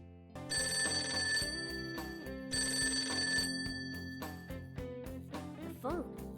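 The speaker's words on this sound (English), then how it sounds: "The phone." Telephone bell ringing in Persona 5 Tactica, two long electronic ring bursts separated by a brief gap, with game music and a short voice sound near the end.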